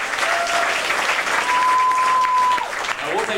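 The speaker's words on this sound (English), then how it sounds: "another big round of applause for our captain and deck crew" Crowd on a backlot tram tour at a Disney-MGM Studios theme park applauding a captain and deck crew, steady and loud throughout, with a faint tonal whistle sounding under the clapping.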